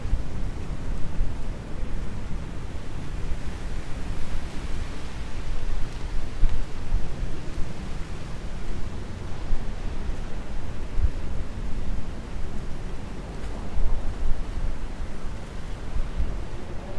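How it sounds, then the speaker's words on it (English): Night wind sweeping through a Miami street, a steady broadband rush with gusty swells that buffet the microphone throughout, with no talking. "It's getting kind of windy here."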